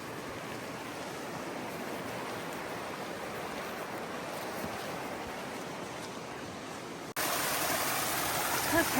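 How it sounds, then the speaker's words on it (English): A big, clear river beside the Virginia Creeper Trail rushes in a steady, continuous broadband roar, close and loud, growing slightly louder and brighter near the end. "I'm right next to a big old beautiful river right now"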